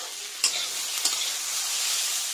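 Cauliflower florets frying in a pan, a steady bright sizzle with two sharp scraping knocks as the pieces are stirred, close and fairly loud with no voices.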